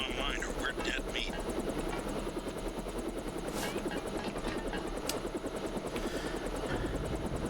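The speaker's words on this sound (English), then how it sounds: "Locked on the chopper and had the nav computer fly straight in." Helicopter in the video game Deus Ex, a steady loud rotor and engine drone running continuously throughout, with faint voices and game sounds mixed in.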